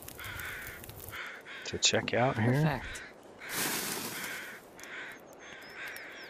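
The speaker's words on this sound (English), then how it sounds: "So I can hear those crows off to the side." Crows cawing off to one side in the survival game The Long Dark, several harsh repeated caws that come and go while someone talks.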